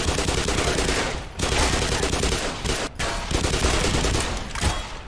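Sustained rapid gunfire from the Black Mesa game, loud and dense, with bursts broken by two brief pauses, no talking.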